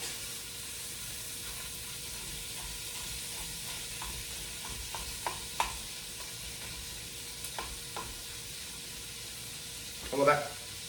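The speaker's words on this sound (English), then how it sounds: "Well, that's got a good sizzle going." Food sizzles in a metal pan on a kitchen stove, a soft steady frying hiss with occasional small clicks and scrapes and a louder burst of sizzle near the end.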